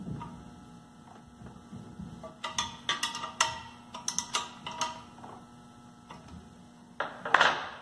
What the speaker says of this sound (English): And then I'm going to lock my adjustment ball down using a 13mm wrench.